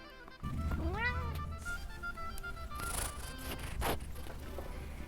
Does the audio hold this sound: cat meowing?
yes